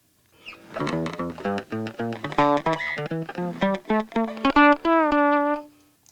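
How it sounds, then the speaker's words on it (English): A fretless bass plays a sliding, melodic line with a gritty, slightly distorted tone from a MOTU Digital Performer PreAmp 1 plugin, notes gliding into one another, alone and up close. "The grit and that distortion that the PreAmp 1 gives me here."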